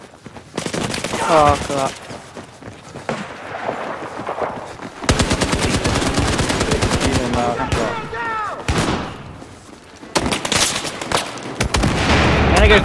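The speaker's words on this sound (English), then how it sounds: "Oh man, a fucking shotgun." Shotgun and other gunfire from a Battlefield team deathmatch, dense bursts of loud shots under a player's excited voice and in-game speech, continuing in heavy rapid volleys through most of the stretch.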